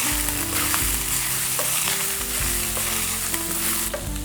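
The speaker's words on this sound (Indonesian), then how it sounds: "kemudian kita masukkan ikan tongkolnya yang sudah disuwir-suwir. Kita aduk-aduk." Shredded tongkol fish stir-fried with spices crackles in a constant loud sizzle, with spatula stirs and scrapes breaking through at intervals, close up.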